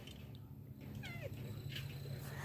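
A house cat gives a single short, faint meow over a steady low background hum, with the room otherwise quiet.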